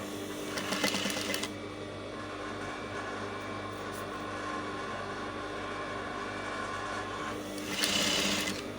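A sewing machine stitches fabric along a line, a steady mechanical whir and rapid needle chatter running continuously, with brief louder bursts at the start and end.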